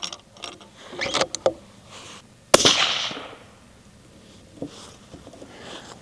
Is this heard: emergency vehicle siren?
no